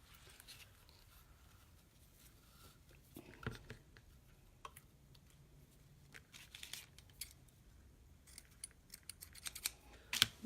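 Quiet, irregular snipping of scissors, with small clicks and rustles scattered across the stretch, growing busier toward the end.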